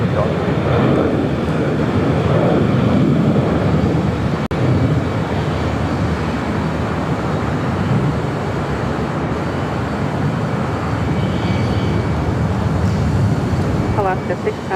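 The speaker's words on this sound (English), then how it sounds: "the China Airlines 777 freighter rolling down 25 left" China Airlines Boeing 777 freighter taking off on runway 25 left at LAX, a loud, continuous jet engine roar that stays powerful and steady throughout, with voices faintly underneath.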